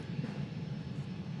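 A Frontier Airlines jet airliner at DFW makes a brief, low, steady engine rumble, fairly quiet and with no voices over it.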